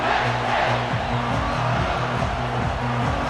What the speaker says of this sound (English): one of the loudest, most passionate crowds you'll find anywhere in college football